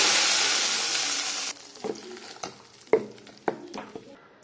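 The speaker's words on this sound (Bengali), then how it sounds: "এই যে সাদা তেল দিয়েছি, দুটো শুকনো লঙ্কা দিয়ে দিচ্ছি, কিছু কড়ি পাতা দিয়ে দিচ্ছি, কালো সর্ষে দিয়ে দিচ্ছি। তো ফোড়নটা দিয়ে দিচ্ছি" Dried chilies, curry leaves and black mustard seeds hit hot white oil for a tempering, giving a loud, dense sizzle for about a second and a half before it drops to quieter crackles with a few sharp stirring clinks.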